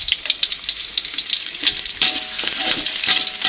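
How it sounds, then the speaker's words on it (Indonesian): Garlic sautés in oil left over from frying eggplant, giving a steady, crackling sizzle close by, with light stirring and scraping in the pan. "Ini saya menumisnya pakai minyak yang bekas goreng terong tadi ya."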